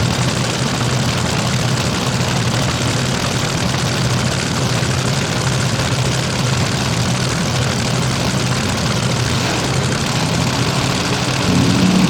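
A front-engine nitromethane top fuel dragster fires up at an evening drag race in St. Louis, a loud, continuous raw engine roar with a dense low rumble holding steady throughout.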